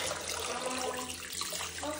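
Steady rush of cold water running from a tap at strong pressure, a continuous broadband hiss at moderate level with no talking.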